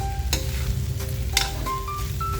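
Leftover cooked rice, made the night before, is stirred and tossed in a hot pan for chicken fried rice, making a loud continuous sizzle broken by sharp scraping strokes of the utensil.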